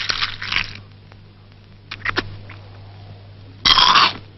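Crisp crunching of Kellogg's Frosties sugar-frosted corn flakes with milk, in three bursts: two quick crunches at the start, a softer pair in the middle, then a loud close crunch near the end over a steady low hum.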